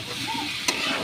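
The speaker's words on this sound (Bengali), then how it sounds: "এবার আমি অল্প অল্প করে নাড়তে থাকবো, এটাকে একটু ফ্রাই করতে থাকবো।" Rice for tehari fries and sizzles in a pan over a low gas flame, a close and continuous hiss with one sharp scrape of the stirring spoon partway through.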